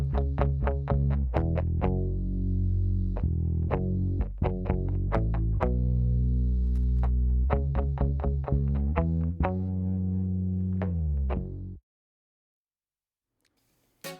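Bass and a distorted electric guitar play a riff together, with punchy repeated notes and sustained chords, then cut off abruptly into silence near the end.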